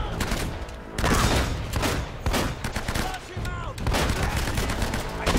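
Heavy gunfire erupts in an Uncharted: Drake's Fortune shootout, rapid overlapping shots and volleys at close range, briefly easing and then surging again, with a voice heard between bursts.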